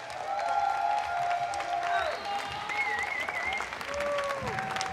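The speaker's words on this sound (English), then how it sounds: "A big round of applause for all of our YouTube creators, guys." Crowd at a Clash Royale finals event applauding the YouTube creators, a thick sustained clapping with scattered cheers and whoops rising over it, moderately loud and continuous.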